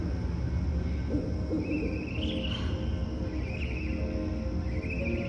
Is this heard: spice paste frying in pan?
no